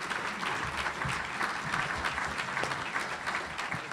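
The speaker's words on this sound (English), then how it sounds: "Chris Corsi, Mayor of Santa Rosa, please give a round of applause for a great leader who is my partner" Steady audience applause fills a large hall at a county government presentation as a mayor is introduced, dense continuous clapping at a moderate level for the full stretch with no voices over it.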